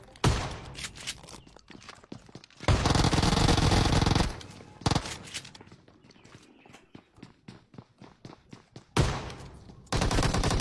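Shotgun fire and other gunfire in the mobile game PUBG Mobile, with dense bursts of loud blasts split by short gaps and lighter clicks and footsteps between them.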